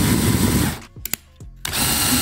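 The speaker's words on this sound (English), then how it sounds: "And then I'll just reverse the drill." A power drill whirs loudly in reverse, working a plastic part during a nitro RC truggy build. It cuts out for under a second with a few sharp clicks, then spins up again.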